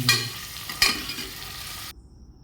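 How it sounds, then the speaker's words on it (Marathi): Onion and green chilli fry in oil with ginger-garlic paste, a short burst of crackling sizzle and a couple of stirring scrapes before it cuts to silence. "कांदा आणि मिरची तेलामध्ये फ्राय करून घेऊया."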